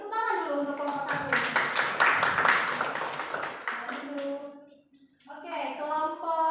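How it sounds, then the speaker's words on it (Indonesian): Group applause in a classroom for the first group of students, a dense burst of many hands clapping that builds and then fades, followed by a teacher's voice speaking alone. "Beri tepuk tangan dulu untuk kelompok 1."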